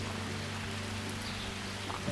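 Steady rain falls in a dense, even hiss during a drive past paddy fields near Kollengode, with a low vehicle hum underneath throughout.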